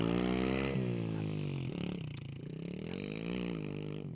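A TTR 110 four-stroke dirt bike revs hard and loud nearby during a wheelie, its engine pitch climbing, dropping at a gear change, then rising again in a continuous drone.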